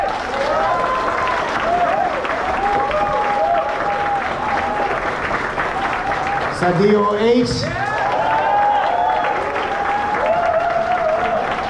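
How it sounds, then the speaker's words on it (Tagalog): Audience applause from a large crowd at a public event, a dense sustained clatter of clapping that runs the whole time under someone speaking loudly over a microphone, briefly lifting as he pauses. "Pwede bang lakasan yung palakpak ninyo"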